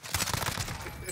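Rapid bursts of gunfire crackle in a Call of Duty Warzone match, a brief dense volley of shots that fades toward the end.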